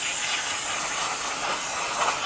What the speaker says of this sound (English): I'm going to go ahead and use a spray solvent.